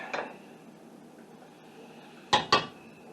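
A spoon clanks against a pot while kluski noodles and kielbasa are stirred: one metallic knock, a pause, then two quick knocks close together in a quiet kitchen.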